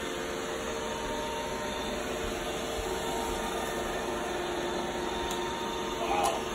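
An iRobot Roomba i7 robot vacuum runs steadily while picking up popcorn kernels during a spot cleaning test, a constant motor whir with a brief rattle near the end as kernels are struck.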